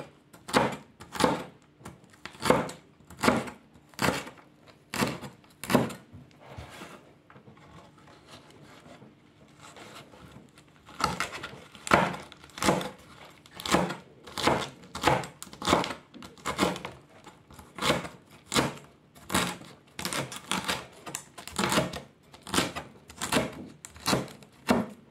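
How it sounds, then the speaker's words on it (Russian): A knife chopping rolled green leaves into small squares on a board, a fast even run of crisp knocks with a short pause in the middle, then the chopping resumes steadily, close and alone. "Потом каждый рулетик режем на квадратики."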